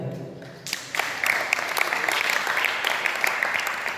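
A seated audience claps at a Jain monk's religious discourse, breaking into a burst of steady, sustained applause after a short quiet opening, fairly close and filling the room without speech.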